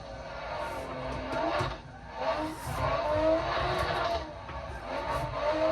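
A simulated car in the Assetto Corsa racing game played on a Thrustmaster TX wheel slides and snaps back, its engine straining in waves with tire squeal and skidding, fairly quiet and with no voices.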